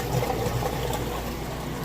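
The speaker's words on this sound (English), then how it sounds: "start draining all that water out" A Maytag washer drains water out through its drain hose, a steady close gushing and pump whir lasting the whole brief moment.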